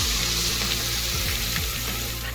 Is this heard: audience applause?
no